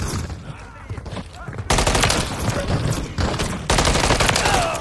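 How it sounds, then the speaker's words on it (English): Heavy bursts of automatic gunfire from enemies in Call of Duty Modern Warfare 3 Zombies on PS5, loud, sustained volleys that start suddenly and surge again after a brief dip, with quieter ambient combat noise before them. "Oh, these are enemies. They shooting."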